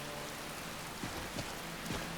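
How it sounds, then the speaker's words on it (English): Rain pours in a Zelda video game world, a dense, continuous hiss of drops on surfaces with faint soft patters, steady throughout and without talk. "I love the rain."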